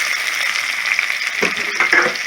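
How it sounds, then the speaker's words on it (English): Chopped onion sizzling in hot Spam fat over medium-low heat, a steady bright hiss with a few crackles and stirring sounds toward the end. "Oh yeah, we sizzling up in here"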